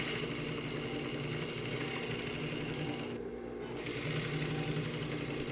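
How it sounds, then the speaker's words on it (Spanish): A sewing machine stitches steadily around the edge of a fabric ironing cushion, a continuous fast mechanical whir with a brief pause in the middle, close and alone. "Inicio con un remate y voy dando una costura por todo el contorno."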